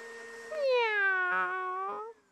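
A single drawn-out cat meow, clear and close, rising then slowly falling over about a second and a half.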